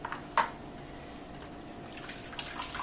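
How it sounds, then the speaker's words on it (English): Running water squeezed from grated potato pulp, while making potato starch, trickles and splashes briefly, with a couple of sharper drips and splatters at the start and near the end over a quiet background. "that water is running fairly clean now"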